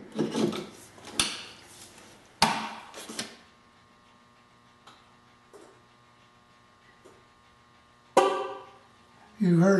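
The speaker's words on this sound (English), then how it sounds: "You heard a click when the charger connected, and then you heard the volt give a little toot" A firm click as a Siemens VersaCharge plug seats in a Chevrolet Volt, followed by a short electronic chirp from the car, with some handling rustle around it.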